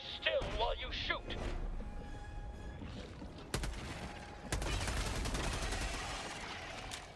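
Rapid bursts of gunfire from Helldivers 2 crackle in sharp clustered shots amid busy game noise and a continuous backdrop, with a voice talking over parts of it.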